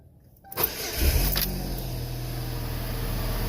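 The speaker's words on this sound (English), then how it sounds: "Let's fire it back up, see if it misfires again." 2005 Chevy Cavalier engine being cranked after fuel injector work on a misfire fault: a short starter whir, then it catches and settles into a steady, close idle.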